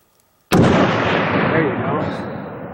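A single loud hunting rifle shot cracks out in Alaska after a moment of quiet, its blast rolling and echoing away across open country for a couple of seconds.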